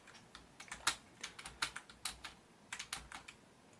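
Keyboard keys on an Atari 400 Mini being pressed during play, a quiet, close run of irregular clicks and taps, some in quick bursts and a few sharper strokes, with no talking.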